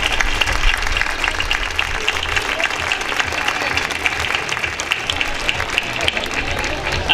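Audience at a town festival proclamation in San Pedro breaking into loud, sustained applause, dense clapping from a large crowd filling the whole stretch.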